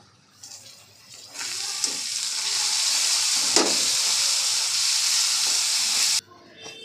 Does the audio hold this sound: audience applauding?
no